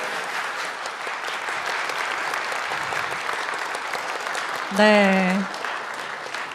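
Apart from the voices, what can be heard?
audience applause at ceremony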